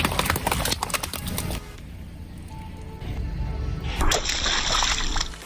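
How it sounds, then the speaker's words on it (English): A car rolls its wheels over a pile of water-filled balloons, giving a burst of wet popping and splashing, then a quieter sloshing stretch and a second splashy burst, with no talking. "This time I filled many balloons with water and put them under the wheels of the car."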